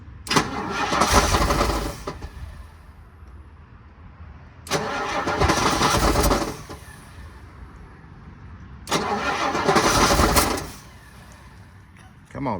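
Rolls-Royce car engine cranking and catching three times in separate loud bursts of a few seconds each, with quieter idle-like gaps between attempts; some speech-like sound is mixed in.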